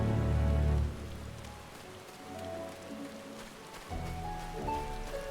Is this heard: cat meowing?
no